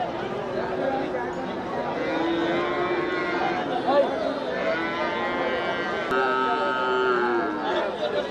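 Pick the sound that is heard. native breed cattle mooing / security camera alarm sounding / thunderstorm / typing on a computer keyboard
native breed cattle mooing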